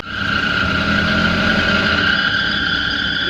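An Invacar's engine runs with its back open while the transmission gives off a loud, steady high-pitched squeal over a low mechanical drone, close and continuous.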